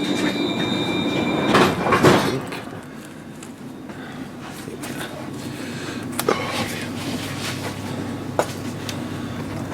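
A train rumbles steadily as it pulls away from Wemyss Bay station, with metallic wheel squeals and creaks rising over the low roll, no speech.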